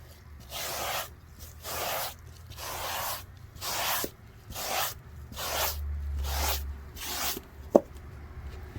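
Steady back-and-forth scrubbing of a soft brush on a carpet floor mat, about nine rhythmic rasping strokes, close and moderately loud, with a low hum underneath.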